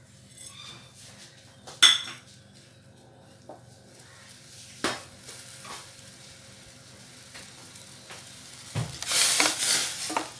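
Jaggery melting in a steel pot, a soft sizzle under sharp metal clinks and scrapes of a spoon stirring, with a louder burst of bubbling near the end and no talk.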